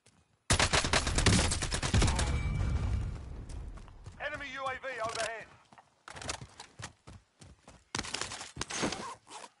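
Rapid bursts of automatic fire from an OTS-9 submachine gun in the video game Warzone, loud and close, with a shorter later burst, mixed with game effects and footsteps; someone talks in between.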